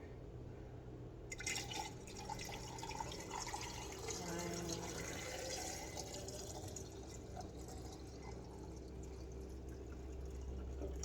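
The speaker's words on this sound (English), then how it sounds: "lime distilled water mix. And we're going to pour it in." A mix of lime and distilled water is poured over eggs in a container, giving a steady trickling and filling sound, quiet and close, with a person speaking during it.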